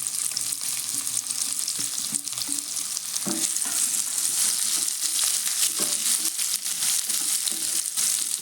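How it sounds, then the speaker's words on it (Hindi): Amla pieces and fennel seeds fry together in a pan over a medium flame, giving a steady, close sizzle and crackle with occasional stirring scrapes throughout. "अब हम यहीं पे इसमें सारे आंवले को डाल देते हैं और उसे भी थोड़ा भून लेते हैं"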